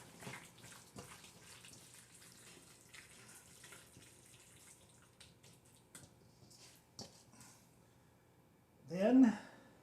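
Hands rinsed under a running kitchen tap while cooking a beef, pepper and tomato stir-fry: a brief, fairly loud splash of water near the end, after quiet kitchen handling sounds.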